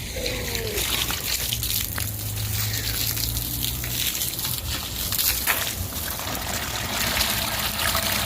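Water trickles and gushes steadily into a water jug, a continuous near pouring rush on a hot day during a church bathroom renovation in Las Vegas, with a faint low hum underneath.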